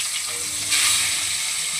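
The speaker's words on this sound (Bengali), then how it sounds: "তেল গরম হয়ে গেছে, প্রথমেই মাছগুলোকে বেশ লাল লাল করে ভেজে তুলে নেব" Fish dropped into hot mustard oil: a loud, bright, close sizzle that suddenly swells into a steady hiss and continues without pause.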